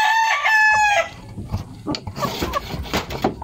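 A red junglefowl (labuyo) rooster crows once, close and loud, its harmonic call lasting about a second. Softer clucking and rustling from the birds follow.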